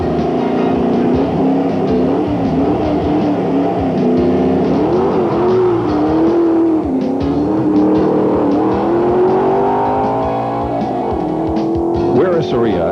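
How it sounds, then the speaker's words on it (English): Heavily modified 1984 Corvette road race car with a 355 big block producing 610 horsepower, running at speed in an open-road race. A steady engine roar rises and falls through gear changes under continuous narration. "Sarita Wirasarita from Austin, Texas, drives a very modified 84 Corvette."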